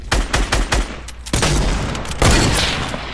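A shotgun fires outdoors during trick-shot attempts, with a loud close blast and another heavy boom shortly after, plus sharper cracks and rattles earlier on.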